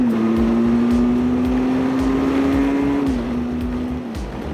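Benelli TRK 502X or SWM Superdual X mid-size motorcycle pulling hard in second gear, a steady engine tone that dips slightly and eases off toward the end, heard close over wind rush with no talking.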